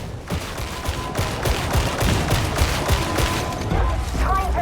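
Rapid gunfire from the Judge Dredd video game pelts the player in bursts, dense and fairly loud, with repeated shots and booms layered across the whole stretch, while a voice talks now and then over the action.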